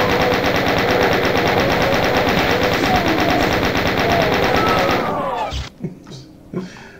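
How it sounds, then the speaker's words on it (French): Rapid, continuous weapon fire from the 1993 video game Doom rattles loudly for about five seconds, then cuts off, leaving a few scattered faint thuds. "le bruit de cette arme me fera toujours rire"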